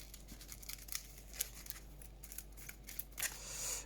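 A deck of Marvel Champions cards is shuffled, giving close, soft papery riffling and flicking bursts in quick irregular succession, with a brief fuller rustle near the end.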